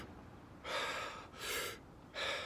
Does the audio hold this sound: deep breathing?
yes